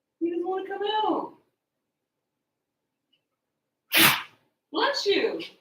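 A single sharp sneeze bursts out between stretches of a person talking nearby, loud and abrupt, with a conversation about terriers going on around it.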